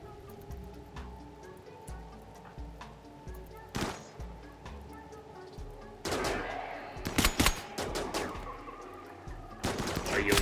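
Shotgun fire in the video game RimWorld, a few sharp blasts early on and then a dense burst of overlapping shots toward the end, set against steady game ambience with some talk over it.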